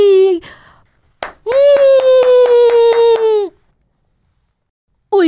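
Young children in a Rwandan nursery class clap a quick run of about seven even beats under a long, sustained sung voice, with brief vocal sounds before and after.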